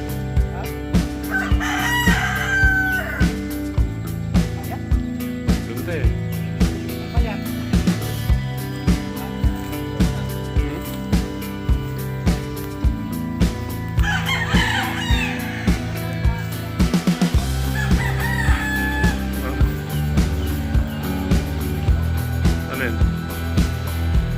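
A rooster crows loudly several times over steady, rhythmic background music, with people talking nearby.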